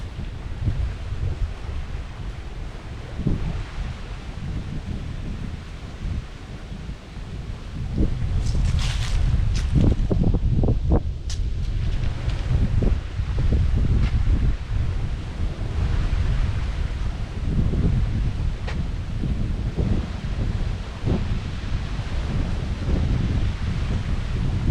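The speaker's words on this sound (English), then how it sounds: "So you can see that there are a lot of breeze here." Strong breeze at the Lake Lanier lower overlook gusts into the microphone as heavy low rumbling buffets, building sharply after a quieter opening with rustling and faint waves beneath.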